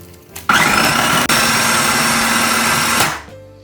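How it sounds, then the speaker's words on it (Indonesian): Kitchen blender pureeing 300 grams of raw salmon for pempek fish-cake dough: a loud motor whine starts abruptly, holds steady with a brief dip, then winds down and stops. "ini kita blender dulu"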